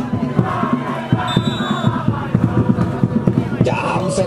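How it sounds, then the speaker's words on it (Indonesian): Volleyball supporters cheering and chanting in a noisy crowd at a local tournament match, a loud, continuous roar with rhythmic shouts and a whistle-like tone briefly cutting through. "Lagi-lagi sorak-sorak supporter dari Mawaja terdengar."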